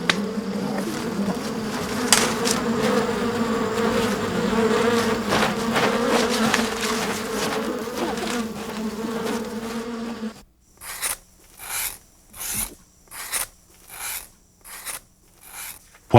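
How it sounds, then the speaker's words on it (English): A swarm of bees drones in a dense, steady buzz for about ten seconds, then comes through as a series of separate pulsing bursts of buzzing, loud and close. "allow themselves to be repeatedly stung by a swarm of bees"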